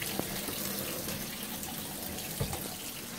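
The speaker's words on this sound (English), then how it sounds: "That's why I put the cold water on." Cold water runs steadily from a kitchen tap into a sink, a continuous close splashing hiss with no talk over it.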